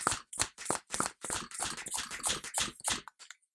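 A hand vacuum pump draws air out of a stoppered wine bottle, producing a rapid series of about a dozen sharp, rhythmic puffing strokes, close and distinct, ending with a few smaller clicks.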